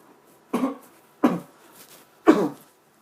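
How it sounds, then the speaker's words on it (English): Three separate coughs close to a microphone, spaced about a second apart, each short and fairly loud against near silence. "I had to cough"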